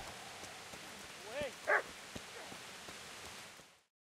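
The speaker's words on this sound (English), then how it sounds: "Hear a dog barking somewhere." A dog barks in the video game Kingdom Come: Deliverance, a short burst of two or three yaps around the middle, somewhat distant, over a steady hiss of rain-like ambience.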